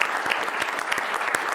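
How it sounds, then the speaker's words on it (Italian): A studio audience gives a short burst of applause for a football coach, brisk scattered clapping from a small group, fairly close and alone. "facciamo un applauso a Alessandro"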